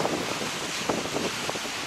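Steady, gusty winter wind roars across the microphone in Volendam, Netherlands, a broad, rushing noise with a few sharper buffets and no voices.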